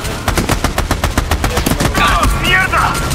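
A turret machine gun in the Army of Two video game fires a rapid, steady stream of loud shots, with shouting voices breaking in over the gunfire toward the end.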